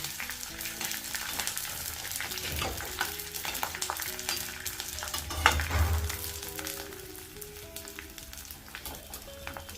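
Edible gum (dink) sizzles and crackles steadily as it fries in ghee for fenugreek dry-fruit laddoos, with occasional stirring scrapes and a denser bubbling burst midway.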